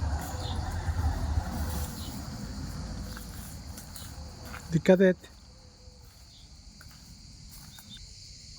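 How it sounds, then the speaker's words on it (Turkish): Crickets chirp steadily in olive groves on a hillside in the countryside, a faint, continuous insect drone beneath the talk of a few people, with a short burst of nearby voices in the middle. "cırcır cır böcekleri cır cır ötüyor"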